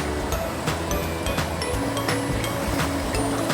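Steady broadband rush of a clear river pouring into the surf at an Oregon coastal cove, a continuous near wash of moving water with wave noise and no talk.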